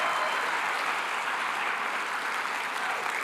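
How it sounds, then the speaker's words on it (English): A seminar audience at a Money Is Tour event applauds a young man, dense continuous clapping that fills the room evenly from start to finish, loud and unbroken, without talk. "How about a hand clap for the young man"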